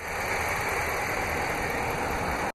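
A 2016 RAM 1500 Laramie Longhorn crew cab 4x4 with the 5.7-liter HEMI V8 idles steadily, a constant close broadband rumble and hum with no voices, cutting off abruptly at the end.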